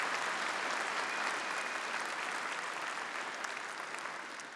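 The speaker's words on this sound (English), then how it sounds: "Would you give Karen one more round of applause for all that she does for the cause in the country?" At the CPAC 2018 conservative gathering, a large audience gives a sustained round of applause, heard from a distance and at fairly low volume, fading slightly toward the end.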